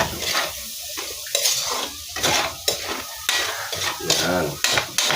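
Garlic, carrots and green beans sautéed in a pan for pancit cabagan: close, loud sizzling broken by repeated scraping stirs of a utensil against the pan, with no talking.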